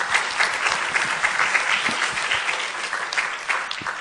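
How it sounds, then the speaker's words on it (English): Attendees at a Women in Environmental Sciences event give a warm round of applause, dense and sustained clapping from a roomful of people at steady volume throughout. "let's give ourselves a round of applause"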